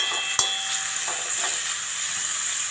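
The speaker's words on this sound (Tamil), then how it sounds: "ஹை ஃப்ளேமில் வச்சுக்கனால சீக்கிரம் வதங்குது." Onions sautéing on a high flame for pasta, a soft continuous sizzle with a sharp utensil knock near the start and light stirring taps afterward.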